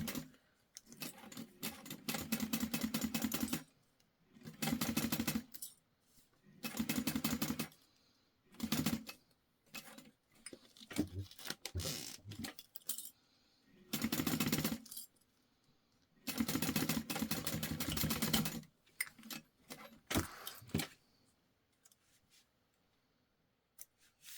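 A sewing machine stitches jelly vinyl for a pouch in several bursts of steady whirring, separated by short pauses and quieter handling clicks, close and moderately loud.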